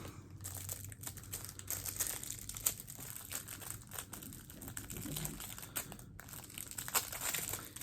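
Crinkly plastic packaging is unwrapped from a tin of collagen under-eye pads, close-up, with irregular bursts of crackling and rustling over several seconds.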